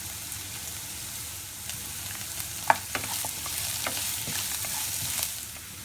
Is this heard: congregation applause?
no